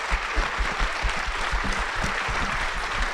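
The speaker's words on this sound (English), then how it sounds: "Please join me in applauding all of these wonderful candidates." An audience applauding a group of candidates at an event: dense, steady clapping from many hands throughout, fairly loud and continuous, with no voices over it.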